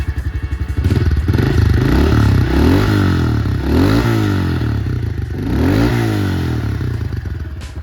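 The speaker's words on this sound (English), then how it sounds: "So the nice thing with this too is you can rev it, and especially when it just starts to rev" A 2023 Honda CRF110 fuel-injected dirt bike engine revs up and settles back several times, a loud, close, buzzy single-cylinder idle rising into sharp throttle blips, with no voices.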